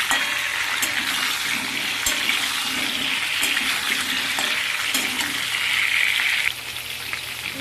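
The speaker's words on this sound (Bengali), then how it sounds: "পেঁপেগুলো দিয়ে এর সঙ্গে পেঁপেগুলো একটু হালকা ভেজে নেব।" Diced papaya tossed into a wok with potatoes sizzles and fries, a steady bright crackling hiss with occasional soft clinks, nearby and without talk.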